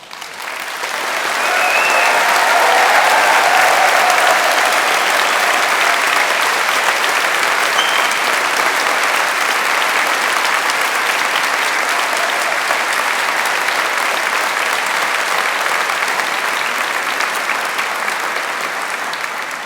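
Graduates at a London degree ceremony burst into loud, sustained applause that swells within the first couple of seconds and holds as a dense wash of clapping before easing slightly at the end.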